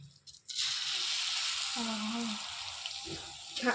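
Cashews drop into hot ghee and fry for carrot halwa, a sudden bright sizzling hiss that starts abruptly and holds steady, with brief voice sounds over it.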